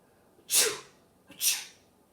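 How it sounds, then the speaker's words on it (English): Two sneezes in quick succession, each a sharp, breathy burst, close and fairly loud. "We sneeze into our elbow."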